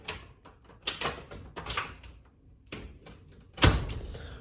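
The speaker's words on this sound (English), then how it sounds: "It's a door that closes and opens" A newly hung wooden interior door is opened and closed several times, giving soft creaks and clicks and ending in a firm latch and thump, close by in a quiet room.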